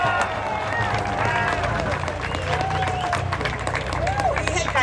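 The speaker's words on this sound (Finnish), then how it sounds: "Aplodit Leenalle!" An audience at an event claps and cheers for the next speaker, with steady crowd clapping mixed with chatter and excited voices throughout.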